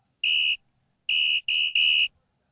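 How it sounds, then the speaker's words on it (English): Referees at an NFL football game between the 49ers and Rams blow shrill whistles, one blast then three quick ones in a row, loud and piercing. "Refs blowing whistles everywhere"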